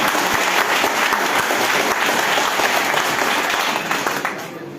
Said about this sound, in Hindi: एक बार प्रतापगढ़ की जिला और ब्लॉक कार्यकारिणी के लिए बहुत जोरदार तालियां